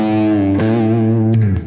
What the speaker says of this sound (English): You can push it and get quite a bit of grit and bark out of it if you want.